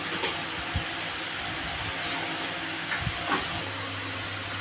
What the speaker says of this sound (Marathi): आता शेंगदाणे मिक्सरला बारीक करूयात.